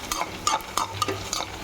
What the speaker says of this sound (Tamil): காரத்துக்கு ஏற்ற மாதிரி மிளகா, வாசனை வர அளவுக்கு வறுத்து வச்சுக்கோங்க.